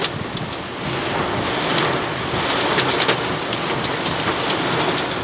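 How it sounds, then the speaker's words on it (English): Heavy rain during a severe storm, a loud, dense and continuous hiss of downpour with scattered sharper drop impacts throughout. "I hope the rain at least eases down"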